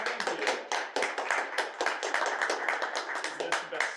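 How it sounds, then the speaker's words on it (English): A crowd applauds, with dense steady clapping that carries on without a break, and voices mingle faintly underneath. "Let's have a round of applause for John."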